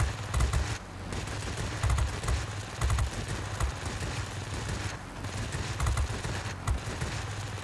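Aircraft guns in the game World of Warplanes fire in rapid sustained bursts over a constant engine drone, with brief pauses between volleys.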